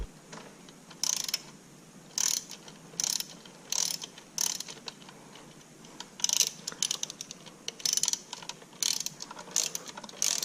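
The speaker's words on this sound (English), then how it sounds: "I went and grabbed a swivel socket, and this is going in slowly but surely." Ratchet fitted with a swivel socket turning a bolt near a car's fuel rail during supercharger sensor removal, heard as short bursts of rapid clicking repeated at a steady rhythm, close up and with no talking.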